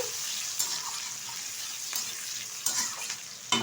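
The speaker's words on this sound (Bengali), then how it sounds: "এখন দিয়ে দিচ্ছি এখানে কুচিয়ে রাখা কিছুটা পেঁয়াজ একটা টমেটো হালকাভাবে একটু তেলে নাড়াচাড়া করে নেব" Chopped onion and a tomato stirred in a little hot oil for an omelette curry, a steady close frying sizzle broken by a few sharp spatula scrapes against the pan.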